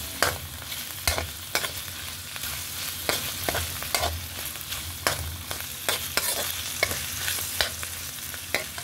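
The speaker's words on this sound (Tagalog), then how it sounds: "Maglagay na rin tayo ng oyster sauce at soy sauce. Haluin lang naman natin." French beans being stirred in butter with oyster sauce and soy sauce: a continuous sizzle punctuated by regular sharp spatula scrapes and taps against the pan, close and clear, without talk.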